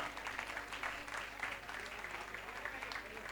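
A crowd at a Nandotsav festival gathering applauds steadily, a dense patter of clapping that stays even throughout, with some speech mixed in.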